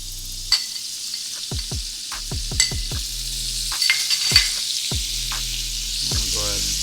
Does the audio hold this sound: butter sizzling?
yes